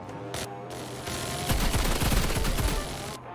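Rapid automatic gunfire from a minigun in the Roblox game Rivals, a dense continuous burst of shots that swells loud for about two seconds over background game sound.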